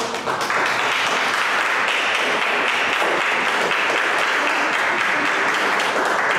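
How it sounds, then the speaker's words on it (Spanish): Sustained applause from an audience welcoming a performer at a monologue presentation in Trujillo, a dense, even roar of many hands clapping that fills the room at constant strength from start to finish. "Este día la vamos a recibir con un aplauso."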